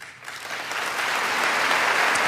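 Members of Congress applaud and cheer King Charles after his address, a dense wash of clapping that swells from a softer start into steady, loud, sustained applause with no voices standing out.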